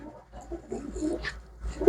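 Pigeons kept for sale by a Punjabi pigeon dealer coo softly in a low, faint murmur of repeated throaty calls, with a slightly louder coo near the end and no talk over them.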